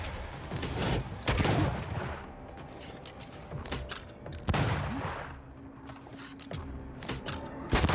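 An enemy firing a gun in a video game: repeated sharp bursts of shots ring out over a constant, noisy, rumbling game background.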